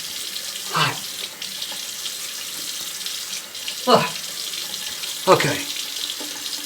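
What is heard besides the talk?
hot water running from a tap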